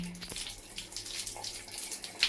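Water rushes steadily from a farmhouse pipe under increased pressure, a close broadband hiss with a brief low knock near the start.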